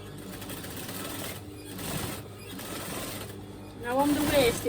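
A sewing machine stitches a tapered trouser seam, a fast, even mechanical whir that runs steadily with brief pauses, near and moderately loud, and a voice talks over it.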